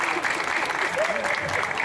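Crowd at a youth spiritist gathering gives a round of applause, a dense, steady clatter of many hands clapping, with a voice faintly audible underneath.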